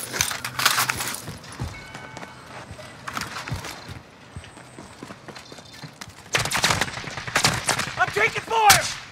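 Bursts of gunfire crackle in a Warzone match, repeated volleys in clusters over a busy mix that also holds clip-clopping hoof-like sounds and background game noise, with players talking over it.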